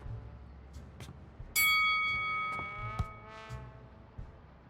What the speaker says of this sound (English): what happens if I ring the bell?